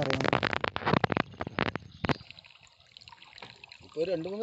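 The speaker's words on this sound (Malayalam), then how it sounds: "ഒഴുകിക്കൊണ്ട് വന്നുകൊണ്ടിരിക്കുകയാണ്, വെള്ളം നിൽക്കുന്നില്ല." Water flows out of a cut bamboo stem in a soft, continuous trickle, at first under close conversation and then more audible once the talking fades.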